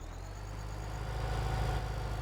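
Tractor engine idling in Farming Simulator 17, a steady low rumble with a constant hum, holding level and rising slightly in loudness toward the end, with no talk over it.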